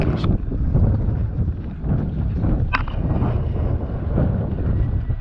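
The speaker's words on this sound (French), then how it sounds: "on est parti, le moteur tourne" A boat engine drones steadily with rushing wind and water noise, a couple of brief knocks breaking through, while leaving harbour at La Trinité-sur-Mer.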